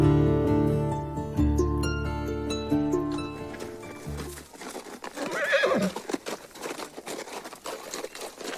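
Several horses whinny loudly with long shrill neighs. Then hooves clip-clop in a rough patter on hard ground close by, with no voices.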